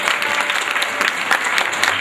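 An audience at a live music program applauds, dense steady clapping from many hands, close and even for the whole stretch.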